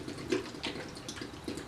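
Finishing liquid pouring from a container into a plastic bucket, a continuous close splashing trickle with small uneven bursts throughout.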